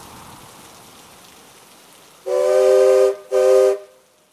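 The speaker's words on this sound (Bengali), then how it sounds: "কিছুক্ষণ অপেক্ষা করার পর ট্রেন চলে আসলো।" A train arriving in heavy rain: steady rainfall at first, then two loud, close steam-whistle blasts, the first long and the second shorter after a brief gap, with the rain continuing underneath.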